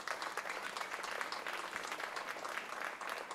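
Applause from an audience at a charitable institution event honoring guests, dense continuous clapping from many people, heard quietly and somewhat distant, without speech.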